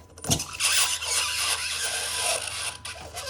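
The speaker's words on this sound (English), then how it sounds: "So when the metal hits the dry ice here, the gas is trying to get around there, and that's what makes the sound of George Washington scream." Continuous high-pitched squeal from metal pressed against dry ice, loud and sustained for about three seconds after a brief knock at the start, with no talking.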